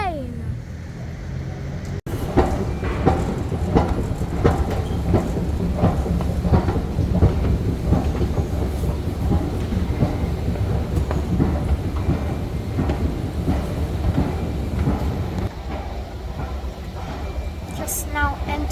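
A new DLR train pulls into Tower Gateway station in London, a sustained rumbling rail noise with clattering wheel knocks and hiss under it, close and fairly loud, with brief squeals near the end.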